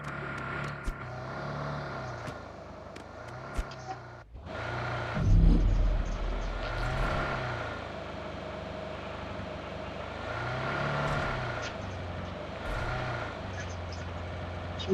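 Vehicle engine in the mobile battle-royale game PUBG Mobile, a steady mid-level hum with a louder surge partway through, running continuously under game sounds and players talking.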